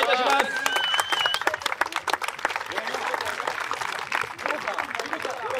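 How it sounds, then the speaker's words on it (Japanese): Spectators at a league awards ceremony applaud the MVP, a sustained round of clapping that follows a brief announcer's voice at the start. "達也選手に大きな拍手をお願いいたします"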